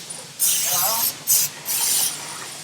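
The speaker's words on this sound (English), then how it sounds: "Rolando, you want to drill one more of these? Okay. While it's on your fixture?" Drilling holes in a molded, cleaned Gen 4 automotive air-conditioning case held on a fixture, heard as three loud hissing, rasping bursts of roughly half a second to a second each with short pauses between them, close by and with no talking.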